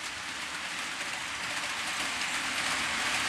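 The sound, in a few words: model railway trains running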